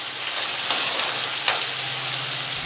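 Curry leaves and onions crackle in hot oil for a mixed vegetable curry, giving a continuous close sizzle with two light clicks of a utensil against the pan and no talking.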